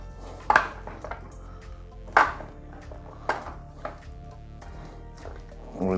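Seasoned food with coarse salt, oil and pepper gently stirred in a pan, a few separate clinks and scrapes of utensil on metal spaced out over a quiet background.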